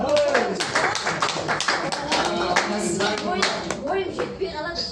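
An audience at a poetry society's tenth-anniversary gathering breaks into lively, close applause, dense clapping that carries through the whole stretch while voices talk over it.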